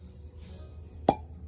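A single sharp cork pop as a Teremana tequila bottle is opened, a close, brief plop after a quiet moment of low room hum.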